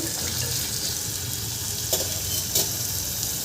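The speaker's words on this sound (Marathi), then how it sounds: "आपण भाज्या छान परतून घेतलेले आहे" Mixed vegetables and tomato sizzle steadily in a hot pan for a pea pulao, a dense close frying hiss broken by a couple of brief scraping stirs.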